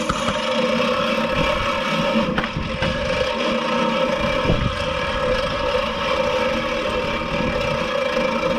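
A Gardena reel mower with freshly sharpened blades spins steadily, giving a continuous whirring, mechanical drone at close range with no talk.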